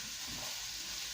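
One medium chopped onion fries in a pan, giving a soft continuous sizzle and hiss, steady and fairly quiet throughout the short moment.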